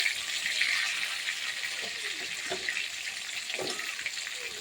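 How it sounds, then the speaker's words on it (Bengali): Fish pieces fry in hot oil with a steady, close crackling sizzle throughout, punctuated by a few soft clinks and scrapes as the fried pieces are lifted from the pan. "মাছগুলো ভাজা হয়ে গেছে বন্ধুরা, মাছগুলো তুলে নিচ্ছি"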